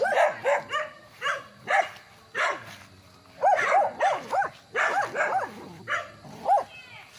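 A dog barks repeatedly nearby in short bursts on a farm lot in Magdalena, Laguna, with a few pauses and some whiny yips between the barks.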